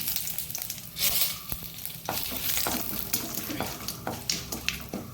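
Cumin seeds, with mustard seeds, fry in hot oil in a pan for sambar, giving a steady close sizzle and crackle with occasional stirring scrapes and taps.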